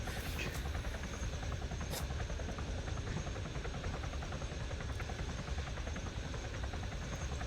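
A cargo helicopter in a military video game gives off a steady, loud rotor drone and buzzing hum throughout, with faint scattered background effects.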